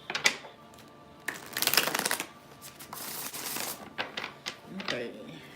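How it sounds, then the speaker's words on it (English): A deck of cards is riffled several times in quick bursts of crisp flapping, close by, with a voice speaking softly in between. "One more shuffle."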